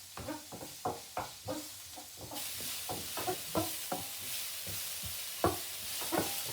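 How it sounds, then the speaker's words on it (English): Onions sweating in a pan for spaghetti and meatballs, a steady soft sizzle under repeated scraping stirs, with the frying hiss swelling louder partway through. "So just sweat them around the pan for a couple of minutes."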